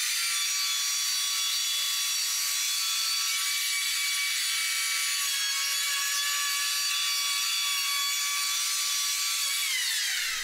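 A planer takes a light skim pass across a timber for timber framing, giving a continuous, close, high-pitched whine with a steady tone for about ten seconds.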